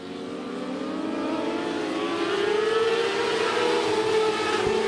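Micro sprint race cars roar around Stuart Raceway in a side-by-side pack, engines droning loud and steady, pitch climbing as they accelerate into the first turns.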